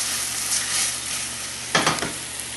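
Mini apple tarte Tatin caramelising in a pan after the heat is switched off, giving a steady close sizzle with a brief louder crackling burst near the end.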